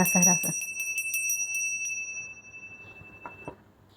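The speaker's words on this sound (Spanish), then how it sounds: "vamos a hacer campanas" High metallic chimes ring in a quick cluster, then fade under soft background noise and a few faint voices.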